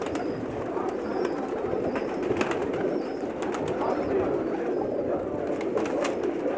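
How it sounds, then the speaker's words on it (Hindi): Teddy pigeons in a loft in Jeddah, Saudi Arabia, coo in soft repeated rolling phrases, several birds overlapping in a steady murmur with occasional wing flutters and faint background talk. "सब टैडी कबूतर हैं जी"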